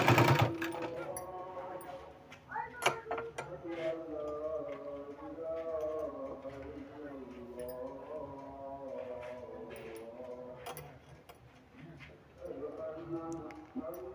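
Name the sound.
sewing machine stitching a child's kurta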